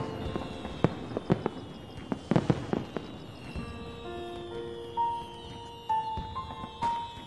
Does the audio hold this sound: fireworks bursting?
yes